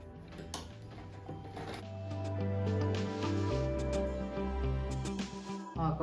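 A sewing machine stitching fabric patches together for a rug, a steady whirring motor drone with shifting pitch as the speed changes, close and moderately quiet, with scattered light clicks.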